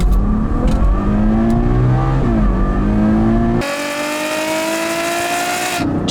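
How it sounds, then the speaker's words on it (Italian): A Ferrari GTC4Lusso with a 690 hp V12 accelerating hard on the Maloja Pass road, its loud, rising engine note climbing through the gears with a sharp shift midway, steady and close. "guidare la GTC 4 Lusso Ferrari, naturalmente sul passo del Maloja"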